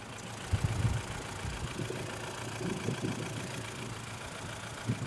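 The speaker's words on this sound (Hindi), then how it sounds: "अब एक सेकंड में इसको लगाता हूँ और अंदर आपको इसकी इंजन नॉइस सुनाता हूँ।" Mahindra MaXX City pickup diesel engine idling, heard from inside the cab with the AC off: a steady low rumble with light knocking pulses, moderately loud and with no talking.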